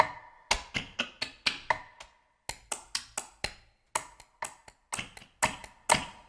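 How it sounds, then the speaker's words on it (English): Clock ticks from a timekeeping sample set, played as crisp, close clicks in quick bursts of four to six with short gaps between them, the velocity shifting slightly from hit to hit. "And then timekeeping clocks."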